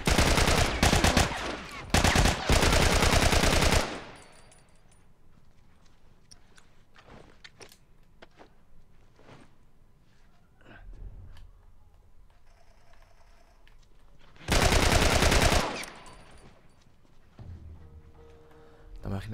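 Bursts of rapid automatic gunfire in The Last of Us at a hospital, loud rattling volleys at the start and again later, separated by quieter stretches of scattered clicks and movement.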